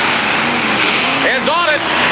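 Racing trucks at the start of a drag race, engines droning loud and close, with one rising rev sweeping upward near the end under a commentator's voice.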